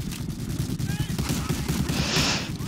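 Rapid gunfire bursts from the World War II shooter video game Medal of Honor Allied Assault, with dense low thumping shots that continue throughout and a brief hiss near the end.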